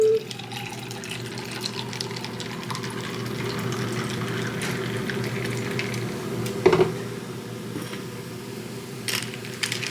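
Raspberry-cranberry sparkling water poured in a home kitchen, a steady fizzing, trickling wash under a constant low hum, with a brief clink partway through.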